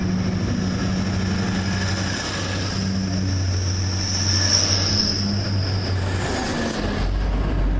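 Class 180 diesel unit leaving a station on a service to Great Malvern, a close, loud rumbling engine drone with a high wheel squeal building midway and fading toward the end, no voices.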